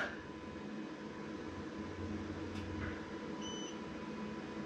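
A battery management system's current limiter gives a short, faint electronic beep once over a steady low hum and hiss in a quiet room.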